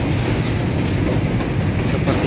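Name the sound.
trains passing at Manggarai station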